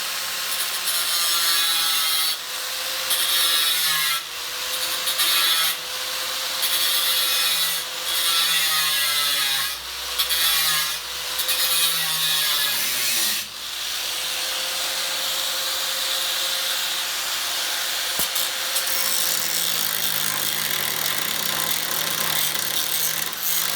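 Metal being cut out of the body of a 1966 Chevrolet El Camino during restoration, a loud, steady grinding-saw rasp that runs with brief breaks in its first half, then continues unbroken to the end.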